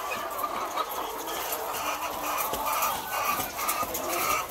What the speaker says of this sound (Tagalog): Feeding time sa mga chicken.